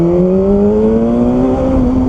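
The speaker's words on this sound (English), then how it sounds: "That's what a bike should sound like." A BMW S1000RR motorcycle engine revs loud and close, its pitch climbing smoothly in one sustained rising whine with no talk over it.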